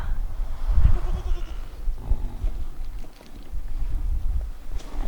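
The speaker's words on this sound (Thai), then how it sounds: "ฝูงแพะด้วยค่ะ" A herd of goats bleats in the quiet morning air of a Himalayan farm, with several overlapping nasal calls at varying distances over steady wind and outdoor rumble.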